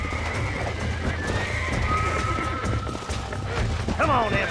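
In the Red Dead Redemption video game, a horse being broken in neighs and whinnies, with hoof clatter and game ambience beneath.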